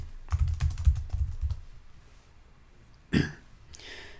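Several quick keystrokes tapped on a computer keyboard in a short burst, close and fairly soft, followed by a pause and a single louder clack with a brief rustle near the end.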